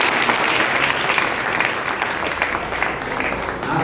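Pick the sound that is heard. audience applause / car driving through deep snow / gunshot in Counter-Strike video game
audience applause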